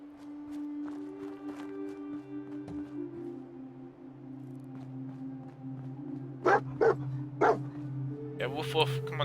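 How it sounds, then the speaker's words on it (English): A dog in the video game Fallout 4 barks several times in short sharp bursts toward the end, over a low steady game hum and background tones. "Woof woof, come on dog."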